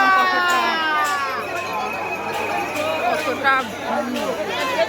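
A dense crowd of pilgrims fills the station at Sheoraphuli, with steady chatter and shouting under close, clear talk, and a loud announcement or whistle tone sounding partway through.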